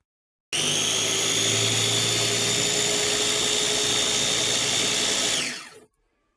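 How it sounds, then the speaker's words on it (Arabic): A spice grinder whirs steadily for about five seconds, loud and close, as it grinds hot toasted sesame seeds for tahini sauce. The high, even motor whine then cuts out and winds down. "نحطه في الاشوار تاعي او في المطحنه اللي عندك تاع التوابل ولا اي مطحنه. نطحنوه"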